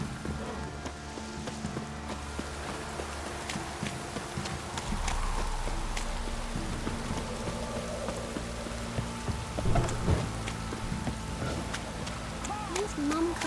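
Heavy rain downpour in The Witcher 3 video game, a steady hiss of falling water with scattered clatter, running under voices talking.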